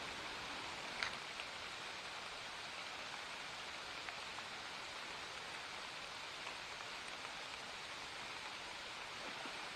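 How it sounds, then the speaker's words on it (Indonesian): Steady rain falls outdoors during a river fishing trip, making a continuous, dense hiss of drops that stays even and fairly loud throughout, with no voices. "Wah, hujan-hujan ni."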